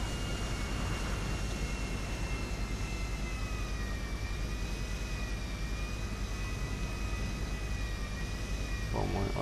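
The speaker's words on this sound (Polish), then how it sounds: "Bo mój odrzutowiec." Jet aircraft engine in the game GTA V Online, a steady loud roaring drone with a sustained high whine across the whole stretch, with the steady roar continuing under occasional speech.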